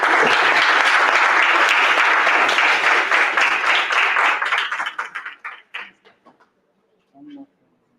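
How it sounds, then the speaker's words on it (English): A conference audience claps in a dense, loud burst of applause that thins out into scattered individual claps and stops, followed by a brief murmur. "Another round of applause, ladies and gentlemen."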